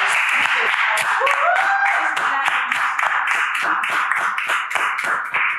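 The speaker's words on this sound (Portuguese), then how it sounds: "Quero agradecer e pedir uma salva de palmas para as nossas convidadas." A small group claps for the guests at the close of a podcast, giving distinct individual hand claps in a loose rhythm with voices audible over them.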